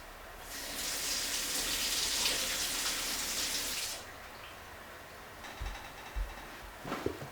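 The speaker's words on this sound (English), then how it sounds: "let me wash my hands before I do this." Water running from a tap into a sink for handwashing, a steady rush for about three seconds, then it stops, followed by faint splashes and handling sounds.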